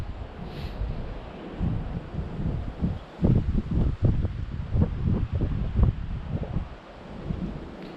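A strong gust of wind at a hillside apiary near a small sailing club rumbles and buffets the microphone in heavy, surging bursts, loud and close, with no one talking.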